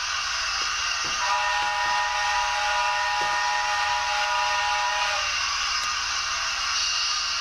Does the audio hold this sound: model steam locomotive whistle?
yes